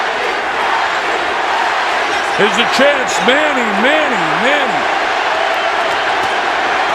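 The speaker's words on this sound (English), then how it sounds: "The crowd is in an absolute frenzy." A boxing crowd at the Pacquiao vs Margarito fight keeps up a constant, heavy roar of cheering while a commentator talks over it.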